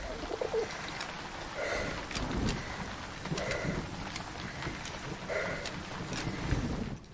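A pigeon in the First World War video game 11-11 Memories Retold coos repeatedly in soft, rhythmic phrases close by, over a low rumbling ambient background with no talking.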